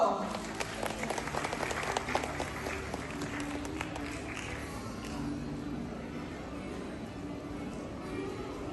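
Applause at a graduation ceremony in Phnom Penh, a crowd clapping in a dense, continuous patter that starts loud and eases slightly as it goes on, with a voice faintly audible beneath.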